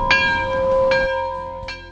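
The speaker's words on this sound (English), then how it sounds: "Somebody ring the bell!" A bell rings out three times with clear metallic strikes and long ringing tones, loud and close, at a truck dealership lot, with no talking over it.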